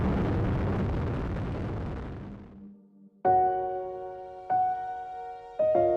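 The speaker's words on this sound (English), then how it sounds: "liftoff of Space Shuttle Atlantis as Columbus sets sail on a voyage of science to the space station" Space Shuttle Atlantis lifting off carrying the Columbus laboratory: a loud, broad roaring rumble for over two seconds that fades out, followed by steady tonal hums with sharp onsets, like music, in the latter half.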